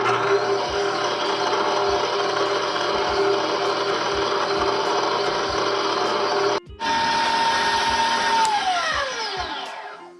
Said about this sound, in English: this time we're gonna use our trusty stand mixer again, but this time we have to use the whisk